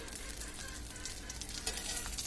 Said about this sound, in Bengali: এই পিঠ উপিট করে উল্টিয়ে তারপর ভেজে নিতে হবে।